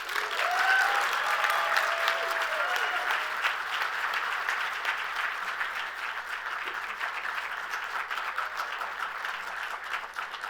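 Audience applause at an awards breakfast honoring legends, a dense, steady round of clapping from a large crowd that holds loud throughout and eases slightly toward the end.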